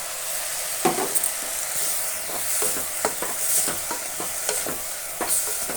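Potatoes and vegetables for a vegetable sagu are stirred in a sizzling pan, with steady frying hiss and repeated scraping spoon strokes against the metal, close and fairly quiet.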